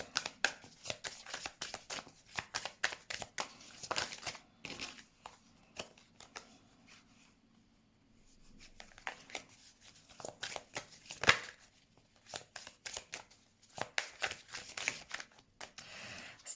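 Tarot cards are shuffled in repeated rapid riffling and flicking bursts, close and crisp, with short pauses between rounds.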